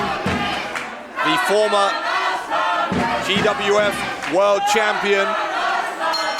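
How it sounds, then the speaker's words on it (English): A loud wrestling crowd at a GWF show cheers and chants continuously for a wrestler, filling the space with sustained roaring voices while an announcer talks over it. "You can hear the majority of the crowd supporting"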